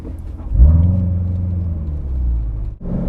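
Chevrolet C7 Corvette on the road, its engine rumbling low and steady as it pulls away, rising in tone through a gear, then briefly dropping off before picking back up, heard from inside the car with no talking.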